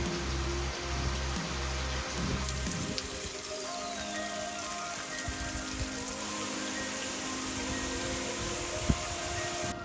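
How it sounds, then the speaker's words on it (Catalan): Heavy tropical rain pours steadily on a surface in Palau, a dense, even roar of drops that continues throughout with no voices. "fins que la pluja fa la seva visita diària i ens obliga a parar"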